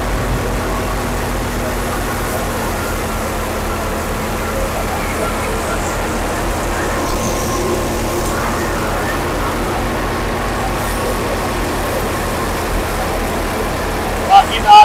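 An old Fiat 480 55 hp tractor drives a thresher, a steady low engine drone with continuous machinery rumble throughout, loud and unbroken, with someone talking over it.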